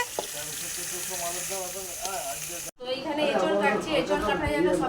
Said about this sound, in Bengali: এখানে এই দেখুন ভাজাভাজি কিন্তু চলছে